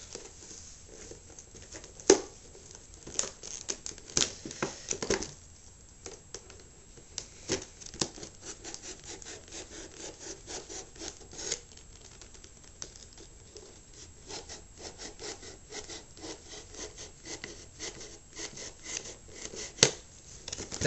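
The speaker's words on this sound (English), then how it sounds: "Let's just make sure this plastic doesn't cut me and my knife doesn't come loose." Knife slicing and scraping through hard plastic clamshell packaging around a DualShock 3 controller, a close, steady patter of rough cutting and rubbing with scattered sharper snaps, no talking.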